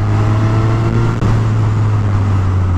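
A 2019 Suzuki Katana 150 hp motorcycle engine runs loud and steady with a strong low hum, a brief dip near the middle suggesting a quick gear change, with no talk.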